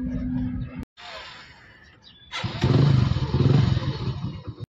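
Motorcycle carrying bags and luggage, its engine idling and clattering, cutting out briefly, then picking up in a throaty rev as it moves off, close and fairly loud.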